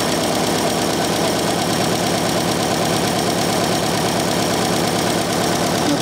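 An old Harley-Davidson Sportster motorcycle engine idles with a loud, rhythmic, lumpy thump during carburetor mixture-screw adjustment, a steady close-up run with no talk.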